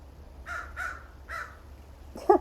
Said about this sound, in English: I think that crow agrees with me.